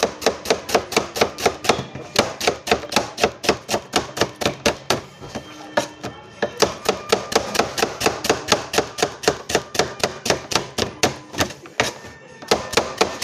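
Rapid rhythmic knife chopping of vegetables on a board for momo filling, dozens of close, crisp strikes in quick bursts with brief pauses between runs.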